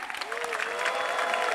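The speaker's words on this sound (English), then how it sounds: "Let us have a big cheer for all the participants and juries from 16 economies. Can we hear the cheer?" An awards-night crowd at the APICTA Awards 2017 in Dhaka claps and cheers in a brief, busy burst, with a voice calling out over the noise.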